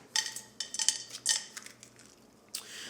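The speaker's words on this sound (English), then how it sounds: "You just take the spoon and just scrape the seeds down." A bouillon spoon scrapes seeds out of a halved squash. It makes several quiet, brief scraping and clinking strokes in irregular rhythm.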